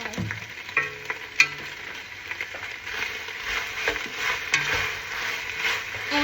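Crispy tofu is stir-fried with curry sauce in a pan, giving a soft sizzle under intermittent scraping and clattering from the stirring utensil.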